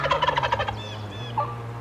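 Wild turkey gobbling in the woods, one close, rapid rattling gobble followed by a short call, loud and clear with no talk.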